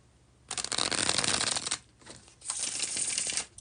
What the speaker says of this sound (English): this is the second and last time I'm going to do the bridge shuffle.